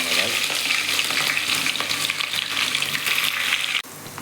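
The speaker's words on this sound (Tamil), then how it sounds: "வெங்காயம் நன்றாக பொன்னிறமாக வதக்க வேண்டும்" Onions frying in a pan for chicken biryani give a loud, continuous close-up sizzle with stirring scrapes, then drop off sharply just before the end.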